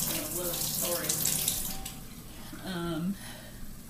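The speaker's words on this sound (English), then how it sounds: "since I did rinse the spoon down" Water runs steadily from a kitchen tap while a spoon is rinsed, a close splashing hiss that shifts as the flow is interrupted, with a voice speaking over part of it.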